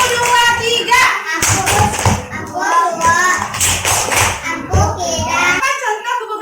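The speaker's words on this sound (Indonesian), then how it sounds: "Kita kasih tepuk ampu buat teman-teman anak ibu yang tampil tadi." Schoolchildren in an Indonesian class clap a rhythmic counted clapping pattern, loud and close, in bursts of taps and thumps, while kids' voices and chanting run through and between the claps.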